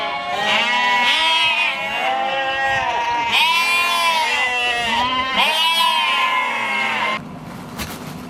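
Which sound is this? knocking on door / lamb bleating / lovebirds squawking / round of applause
lamb bleating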